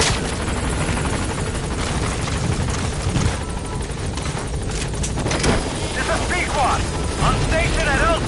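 Helicopter in Metal Gear Solid V arriving at a landing zone, a loud, steady rotor thrum and engine roar filling the whole stretch, with radio-style voices talking over it.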